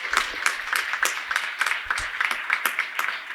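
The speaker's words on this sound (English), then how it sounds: "Big round of applause." An audience at a national HR summit claps for the teams being honoured, a fairly close, moderately loud stream of individual handclaps with a loose rhythm, carrying on steadily without talk.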